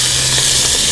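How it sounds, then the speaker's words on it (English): A pound of ground beef sizzling in a hot pan for coney meat sauce, a continuous bright hiss throughout the short moment. "So here we go with the beef. This is going in."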